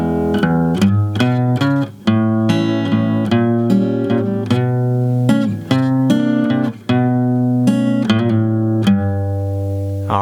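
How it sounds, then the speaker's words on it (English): Solo guitar plays a blues walk-in intro turnaround, a run of crisp plucked notes and short chord stabs with brief gaps, close and clear with no talk. "We have a very cool walk-in intro turnaround."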